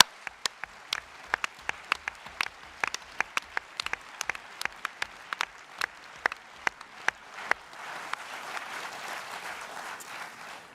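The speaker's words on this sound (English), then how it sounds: "Can we give Shirley-Anne, Neil and Jenny a huge round of applause?" Applause from a party conference audience in a hall, mostly sparse, distinct claps at first that thicken into a soft, continuous patter toward the end.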